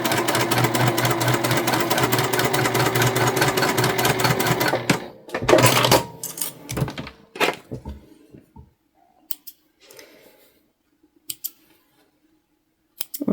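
Sewing machine stitching across the bottom of a quilted fabric basket to close the turning hole, a loud, fast, steady mechanical whirr for about five seconds, then stopping and giving way to scattered handling clicks and quiet.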